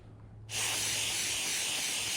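After a brief quiet moment, a continuous aerosol spray of brake cleaner hisses loudly and steadily, close up.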